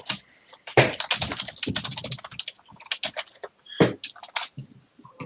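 Fast, irregular typing on a computer keyboard during a League of Worth versus North American Bads esports match, with clicky keystrokes in quick bursts and short pauses, close and clear with no talk.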